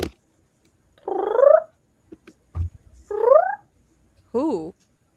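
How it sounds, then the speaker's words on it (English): A cat named Jasper gives three drawn-out, rising-and-falling meows with pauses between them, heard clearly with faint background bumps and no talk. "I hear a cat in the background"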